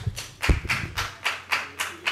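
Brief clapping rings out in a Grenoble city council meeting: about seven evenly spaced, fairly crisp claps in a short rhythmic run.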